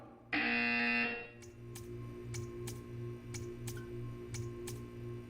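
A loud electronic buzzer in the video game Portal 2 sounds once for about a second, followed by a quieter run of regular ticking clicks.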